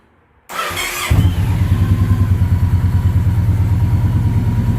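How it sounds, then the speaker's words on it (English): A Yamaha Roadliner motorcycle engine cranks with the starter for a moment, catches and settles into a loud, close, steady lumpy idle. "Nothing, because I gotta start the bike."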